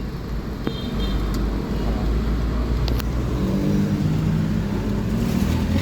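A Ford Everest engine with a no-drive, no-reverse fault revs steadily in gear without moving the vehicle, a loud, continuous low drone close by, with a brief click near the start.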